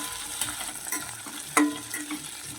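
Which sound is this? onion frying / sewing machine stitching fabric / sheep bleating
onion frying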